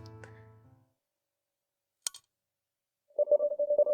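Phone dialing in a video game: after a brief low hum and a faint clink, a steady run of closely spaced electronic tones plays at moderate loudness, with no talk.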